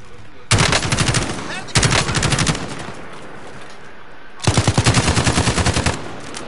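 Rapid automatic gunfire in a zombie video game, loud and close, coming in three sustained bursts separated by short pauses.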